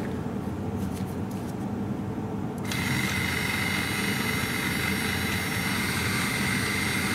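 A Toyota RAV4 electric parking brake caliper motor wired to a battery and pushing out its piston, a steady buzzing whine that starts partway through and runs on evenly over a faint background hiss.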